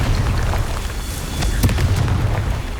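The Confringo fire spell blasts in Hogwarts Legacy, a heavy booming explosion with a rumbling low tail and a sharp crackling burst near the middle, loud and close.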